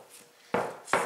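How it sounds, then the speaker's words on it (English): A bench scraper chops through bread dough for homemade hamburger buns, landing two sharp, close knocks on the work surface about half a second apart after a quiet pause. "Or a knife if you don't have a bench scraper. And then we have to cut this dough into"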